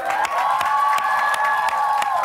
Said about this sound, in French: Il y a des huées dans la salle!